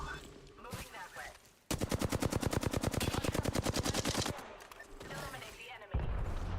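Rapid automatic gunfire in Apex Legends, a loud steady burst of evenly spaced shots lasting a few seconds, framed by softer game ambience and brief voice lines.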